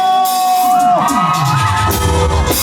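A large crowd shouts and cheers together over loud background music at a municipal anniversary festival in Acostambo, Peru, a sustained roar of voices lasting the whole moment.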